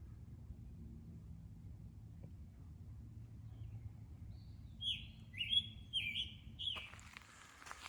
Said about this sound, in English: Just wanted to pause for that bird.